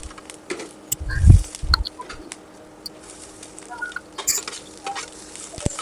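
Green chilies fry in a pan with a soft, scattered crackle and sizzle, broken by a few low thumps and clatters of stirring near the start.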